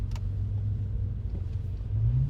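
A 2006 Bentley Continental Flying Spur drives along with a steady, loud low engine rumble and road drone, swelling slightly toward the end as if it gathers pace, heard alone without talk.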